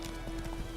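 In The Witcher 3 video game, a horse's hooves clop in a quick, uneven rhythm at close range, blended with game ambience and music, with faint voice-like sounds underneath.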